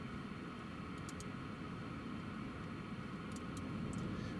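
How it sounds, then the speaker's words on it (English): Faint, steady distant roar of a US Air Force C-17 transport jet passing overhead near an airport, under a broad windy hiss with no voices. "There's a US Air Force C-17 just passing over from around Edinburgh way."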